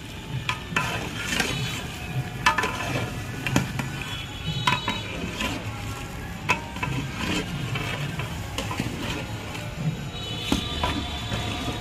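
Beef and winter vegetables, including shredded cabbage, are stirred in a large pot for a big batch meal, with steady scraping and clattering over a soft background sizzle and no one talking.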